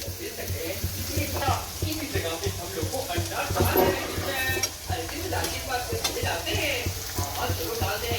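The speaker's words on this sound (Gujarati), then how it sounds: "ડુંગળી અને મરચાં નાખી અને તેલ ખાવા દેવાનું." Onions and green chillies sizzle and crackle in hot oil for pav bhaji, with steady frying and occasional stirring throughout, and voices talking faintly over the cooking.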